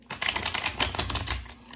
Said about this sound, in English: I'm going to shuffle this a couple more times for you guys